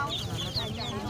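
A chicken clucks close by at a busy local market, a short run of repeated squawky clucks over crowd murmur.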